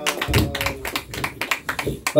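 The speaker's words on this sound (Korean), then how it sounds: "하나님께 영광의 박수 올려드리겠습니다." A church congregation claps together at the close of a broadcast worship service, a quick run of sharp, fairly even claps that rises to a louder burst at the end.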